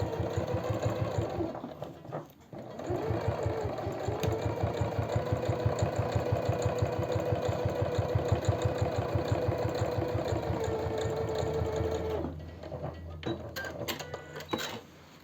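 A sewing machine stitches men's jeans in a steady, rapid mechanical chatter that runs for about ten seconds close by, with brief handling noises before and after.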